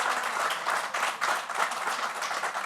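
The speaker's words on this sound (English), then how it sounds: "let's send up a shout and a clap for, a hand clap for Art" An audience at an Urban League media honors event claps for an absent honoree, a soft but continuous wash of hand claps with faint cheering mixed through it.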